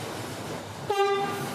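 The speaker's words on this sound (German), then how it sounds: "Ein entgegenkommender Zug fährt durch die Station." A train on a preserved Welsh railway passes through a station, its horn blaring suddenly and loudly near the end over a low rumble of the line.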